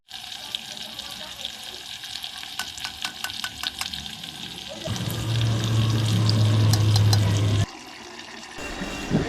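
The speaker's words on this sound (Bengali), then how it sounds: "জিরের গুঁড়ো, লঙ্কা সব একসঙ্গে দিয়ে সামান্য একটু কষিয়ে নেব।" Ground cumin and chilli being sautéed in a pan for a vegetable curry: a close, crackling sizzle with stirring clinks, then a louder steady frying hiss with a humming tone before it drops back.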